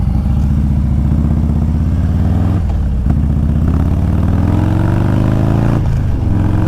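Dyno-tuned car engine running loud and close, a steady droning rumble that rises and dips in pitch as it revs, with brief breaks between pulls.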